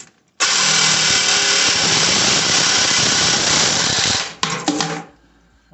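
A long power saw cuts through rusted toilet bolts up close, a loud, continuous buzzing rasp of about four seconds that cuts off into a few short bursts before stopping.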